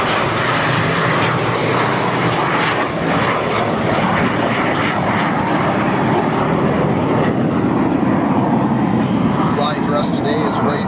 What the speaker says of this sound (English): That plane is old.